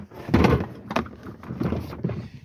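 Plastic toilet cassette pulled from the exterior hatch of a Bailey Pegasus Panther caravan, giving a few close, hollow thuds and scraping slides in quick succession with no talk.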